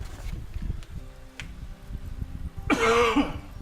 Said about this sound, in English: Sorry, my cough here.